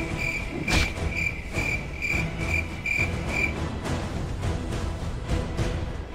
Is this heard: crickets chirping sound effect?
yes